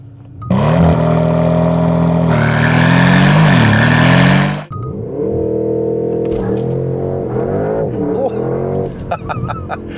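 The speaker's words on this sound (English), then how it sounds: "Okay, why not do a launch control?" A 2025 Porsche Panamera GTS does a launch control start, its V8 roaring loud and close as it pulls hard through the revs. It shifts up with a sharp break, and the engine note keeps climbing through the next gear.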